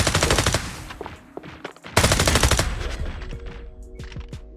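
An automated turret in the shooter game Fragpunk firing rapid bursts, loud machine-gun rattles in two sustained volleys separated by a brief pause, followed by a few scattered single shots and ringing tones.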